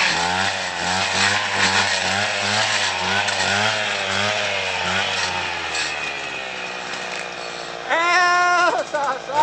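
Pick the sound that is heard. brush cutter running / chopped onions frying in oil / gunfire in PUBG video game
brush cutter running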